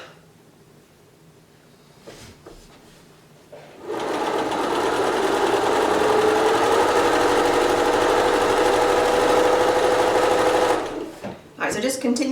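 A sewing machine stitches quilt fabric points in one steady, continuous run of about seven seconds, loud and close, with quiet handling noises before and after.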